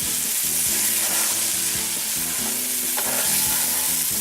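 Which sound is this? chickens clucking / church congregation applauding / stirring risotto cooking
stirring risotto cooking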